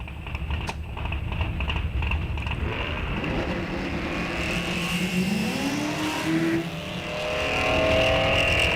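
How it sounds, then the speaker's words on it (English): Drag racing cars at a strip event, one of them a Mustang, heard as a loud sustained engine roar that swells and rises toward the end as the cars launch. "Zenke in the Mustang, dial 1025 over here right side"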